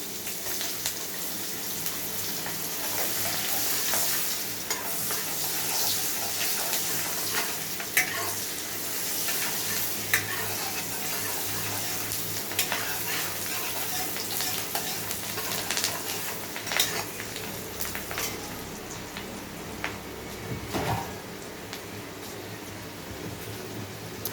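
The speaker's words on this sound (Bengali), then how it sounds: "আমার পেঁয়াজটা একটু ভাজা ভাজা হয়ে এসছে।" Soft, steady sizzling of chopped onion frying in a pan, broken by scattered scraping and tapping as it is stirred.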